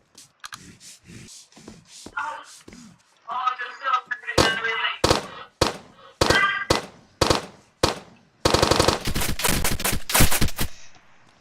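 Healing revolver gunfire in the video game Apocalypse Rising 2: after some early talk, loud, sharp shots ring out one by one at a steady pace, then a rapid burst of shots follows near the end.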